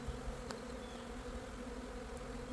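A honeybee swarm drones in a continuous soft, even buzz close by outdoors as it is moved into a Warre hive, with no voices.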